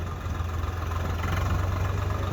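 A tractor engine idles nearby with a steady low throbbing rumble and an even mechanical hum, heard alone without voices.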